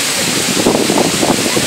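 Oum er-Rbia waterfall in Morocco roars as a steady broadband rush of falling water, loud and continuous throughout, with faint voices mixed into the noise.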